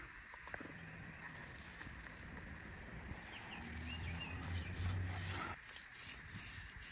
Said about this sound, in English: I'm gonna go get my sander and go ahead and sand this area.